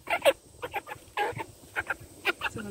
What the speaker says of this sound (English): This is a broiler chicken.